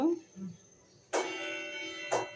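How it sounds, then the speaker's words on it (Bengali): A doorbell at a home rings twice, each a bright electronic chime that starts suddenly and lingers about a second, heard close and clear after a short stretch of faint sounds. "কে আসলো আবার কলিং বেল দিতেছে"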